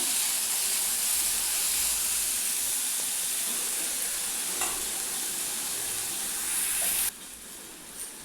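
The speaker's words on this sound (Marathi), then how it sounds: "छान परतवून घेणार आहे मी याला" Fresh green peas and vegetables sautéing in a pan in a home kitchen, giving a steady loud sizzle with stirring scrapes throughout that cuts off sharply near the end.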